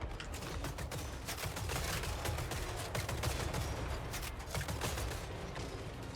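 Rapid, continuous crackling volleys of gunfire from rotating-barrel volley guns in a Total War fantasy battle, a dense, loud stream of overlapping shots over a constant low battlefield rumble.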